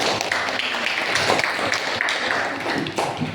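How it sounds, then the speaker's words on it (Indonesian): Classroom students clap for a classmate: a steady, dense patter of many hands that fills about three seconds at moderate loudness. "Kasih tepuk tangan untuk Putri"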